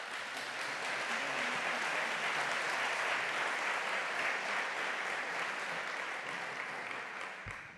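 A conference audience gives long, even applause for the final talk at a report presentation, a dense wall of clapping that holds steady and fades slightly at the end.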